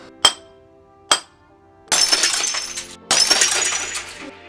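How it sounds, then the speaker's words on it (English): Layered glass breaking for a Final Fantasy VII limit break effect: two sharp isolated clinks, then two loud, bright shattering bursts with tinkling debris, close and dry. "I think we need to do a little bit more with this glass breaking though."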